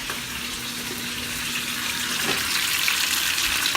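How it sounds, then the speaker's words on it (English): Hands rinsed under a running kitchen tap during a pork chop cooking session: a steady, close hiss of flowing water that swells slightly as the hands move under the stream. "Give a quick wash of my hands."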